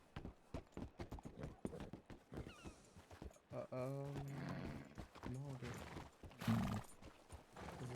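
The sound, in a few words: horse hooves clip-clopping and whinnying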